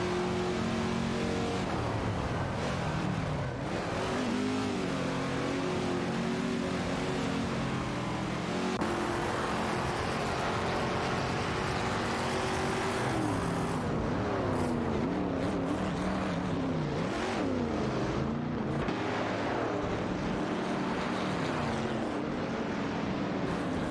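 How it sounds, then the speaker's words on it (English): Classic race car engines in an AI racing video game, including a 1969 Mercury Cougar Eliminator, a Porsche and a 1977 Aston Martin V8 Vantage, roaring and revving continuously and loudly as a pack, with pitch rising and falling through gear changes. "It's a heated battle for the 20th spot between Lapoisson 1980 and Kubsalek in the Mercury Cougar Eliminator 69"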